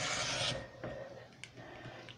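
A cutter slices through thick, many-times-folded fabric along a ruler, making a close, dry rasping scrape for about half a second, followed by a quieter second scraping stroke.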